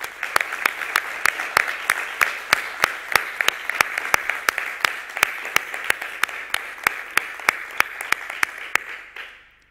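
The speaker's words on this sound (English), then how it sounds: "So I think we should give them a good applause." A conference audience at EuroPython 2016 applauds in a dense, sustained burst with sharp individual claps standing out. It lasts almost ten seconds and then cuts off abruptly.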